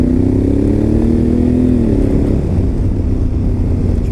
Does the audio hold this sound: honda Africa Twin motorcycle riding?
yes